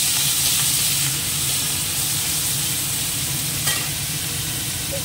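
Whole spices, dried red chilli and radhuni temper in hot oil beside prawns, giving a steady, loud, close sizzle and hiss with faint stirring scrapes throughout.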